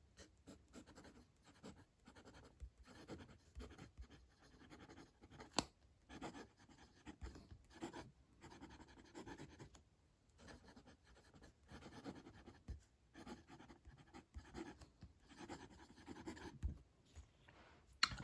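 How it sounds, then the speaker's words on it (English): Fountain pen with a roughly 1.1 to 1.3 mm stub nib writing on paper, giving faint, close scratchy strokes in an irregular rhythm, quiet and alone. "So let's do this writing sample."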